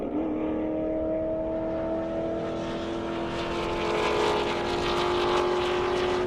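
A 2007 Corvette launching in a half-mile drag race on an airport strip: a loud, steady engine roar with rising pitch as it accelerates, heard at close range throughout with no talk.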